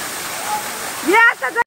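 Steady rushing roar of Nhavankond waterfall at Talebajar, Sindhudurg, filling the background throughout, with people's voices rising over it near the end.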